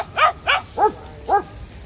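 A dog barks four times in quick succession, close and fairly loud, with short pauses between the barks, at a beach.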